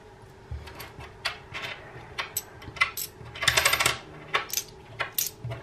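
Coins tipped out and counted by hand, a string of sharp metallic clinks and jingles at close range, clustered then scattered across several seconds, with no voices.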